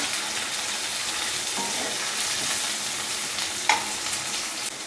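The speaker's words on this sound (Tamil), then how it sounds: "கருவேப்பிலையை சேர்த்துக்கலாம்" Curry leaves and onion frying in hot oil for poondu kuzhambu, a garlic curry: a dense, even sizzle close by, broken by a couple of brief scrapes and a sharp pop near the end.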